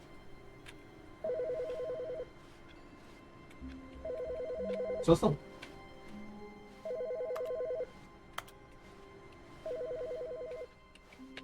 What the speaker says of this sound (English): I hear cell phone.